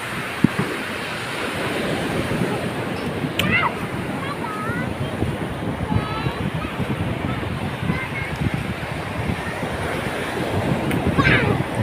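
Ocean waves at the sea, a steady close wash of surf and splashing roughened by wind on the microphone, with voices talking over it.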